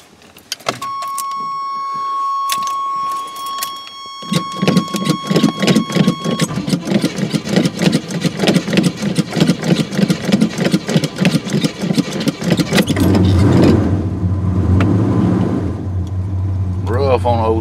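Old 1985 Chevy C30 truck with a non-working choke cold starting: a high tone, then rapid rhythmic cranking for several seconds before the engine catches and settles into a low, rough idle, recorded close and loud.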